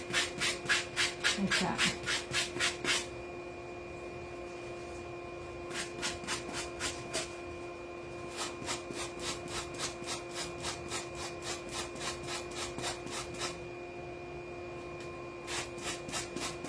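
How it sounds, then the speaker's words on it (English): A sanding block rubbed by hand along the edge of a still slightly damp wooden star for a patriotic fireplace mantel decoration, giving bursts of quick, rhythmic scraping strokes that stop and resume, close up, with a brief spoken phrase. "So I'm just going to take my sanding block and sand off the edge."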